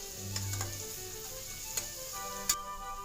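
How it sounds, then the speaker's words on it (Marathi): Chopped onion frying in hot oil in a pan, stirred until pinkish: a soft, continuous sizzle with occasional sharp ticks and scrapes from the spoon, close and fairly quiet, with no talking. "आणि आता कलर बदलेपर्यंत हा कांदा चांगला असा तेलावर परतवून घ्यायचा"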